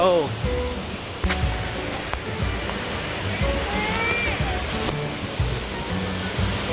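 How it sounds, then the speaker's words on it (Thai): Steady broadband rush of the Khlong waterfall on Koh Chang, swollen after rain, fills the scene at close range while several people talk and exclaim over it. "เราก็ถึงแล้วครับจุดหมายของเรา"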